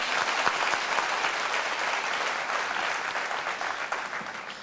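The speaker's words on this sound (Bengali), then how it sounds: "আমরা জোরে সম্মানিত মঞ্জুরুল হাসান বুলবুলের জন্য তালি দিব" Loud, dense applause from an audience at a formal gathering with press club and journalist union dignitaries, steady and sustained throughout, fading slightly near the end.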